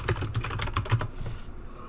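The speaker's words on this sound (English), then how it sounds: "I do hope you like Benju's enhanced keyboard" Rapid clicky keystrokes on a modified computer keyboard, a dense close-up run of taps that stops abruptly near the end.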